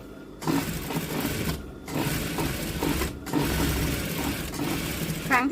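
A sewing machine stitches a trouser crotch seam a second time. It gives a continuous close whirring and clattering, broken by short pauses as the fabric is repositioned.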